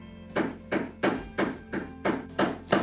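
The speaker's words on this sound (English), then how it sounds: "I want the weight of the mallet to move my beveler" A mallet strikes a leather beveler in eight even, sharp knocks about a third of a second apart, close and clear with no talk.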